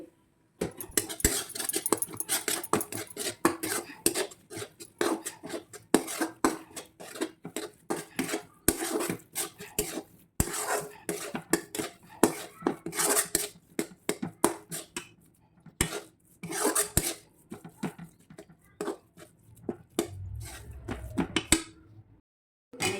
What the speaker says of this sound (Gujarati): અડધી ચમચી હળદર નાખી દઈશું અને અડધી ચમચી ગરમ મસાલો નાખી દઈશું ને હવે એને બરાબર મિક્સ કરી દેવાનું છે